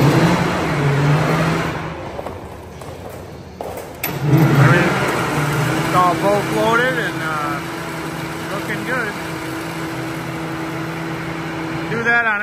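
A concrete truck's engine hums steadily at a residential slab pour for radiant floor heating, with some revving near the start, while people talk over it throughout.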